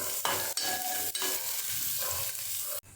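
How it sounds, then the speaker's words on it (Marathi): Onion, added after garlic that has been browned, sizzles and fries in a pan while being stirred, with a steady close crackle broken by a few scraping stirring strokes. "नंतर कांदा टाकते बघा कांदा भाजून घेऊया आपण"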